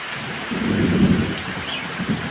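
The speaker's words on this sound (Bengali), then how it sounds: "মেঘ ডাকছে" Thunder rolls in a short low rumble during a rain shower, swelling and fading over about two seconds above a soft hiss of falling rain.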